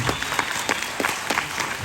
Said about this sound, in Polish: Brawa dla Sławka jeszcze raz